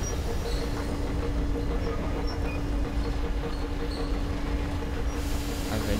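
A train in the Metro Exodus video game starts up with a steady, loud rumbling roar of wheels and rolling stock and faint metallic squeals, continuous with no speech.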